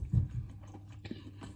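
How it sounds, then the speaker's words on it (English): Someone chews a bite of moist char siu, Chinese barbecue roast pork, close to the mic. A few soft, low mouth-squelch bursts come early, then quieter chewing continues without talk. "I'm still chewing."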